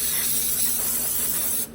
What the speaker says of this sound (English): Now I'm going to spray off this caliper bracket real well with brake cleaner.